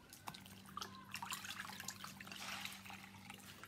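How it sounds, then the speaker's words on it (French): Fresh water trickles and splashes steadily while a face mask is rinsed off the skin at a sink, soft and fairly quiet, with small drips and uneven splashes throughout. "on va venir rafraîchir avec toujours de l'eau fraîche"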